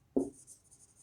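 A marker or chalk touches a classroom board with a single soft tap, followed by a faint high squeaky scratch that trails off within a second.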